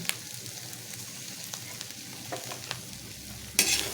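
Bopis is stirred in a frying pan just after oyster sauce is poured in: a low sizzle runs under repeated scraping clicks of the spatula, with a sharper clatter near the end.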